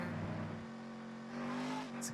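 Car engine droning steadily in GTA: Chinatown Wars, a sustained mid-pitched hum that rises slightly near the end, with a brief bright noise at the close.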